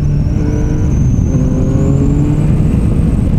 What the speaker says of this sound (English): when I'm accelerating, I'm losing my front.